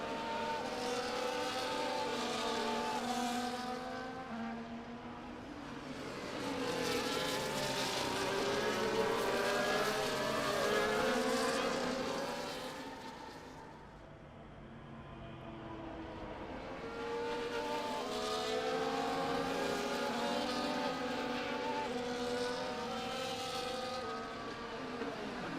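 Formula 1 race cars in a racing video game at the Australia circuit roar continuously, engines rising and falling as several cars run wheel to wheel, loud and sustained with no talk.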